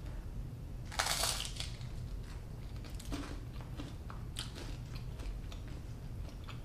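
Someone bites into bread topped with a two-cheese spread made with herbs and lemon, giving a sharp crunchy bite followed by quieter chewing and crushing sounds, close up and with no talking.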